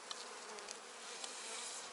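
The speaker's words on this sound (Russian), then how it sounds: "Так, пчелок не придавить." Honey bees buzz in an open hive during frame inspection, a dense, continuous drone close by and fairly faint, steady for the whole two seconds with no voices.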